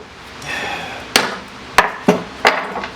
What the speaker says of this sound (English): So take a hammer to get it out.